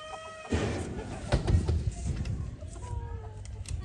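American Silkie and bantam chickens clucking on a village farm in Punjab, with bursts of fowl calls amid steady background noise and some people talking nearby.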